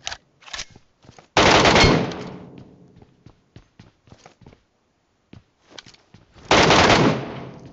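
Gunfire in PUBG Metro Royale: scattered single shots and short bursts, then two loud, sustained sprays of automatic fire, all close and sharp.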